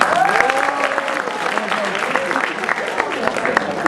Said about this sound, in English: So I would like to big round of applause for them